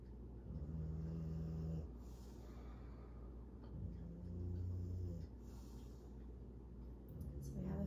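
A puppy snores softly and rhythmically nearby in a quiet room during a yin yoga session. The slow, low breaths repeat in a steady pattern.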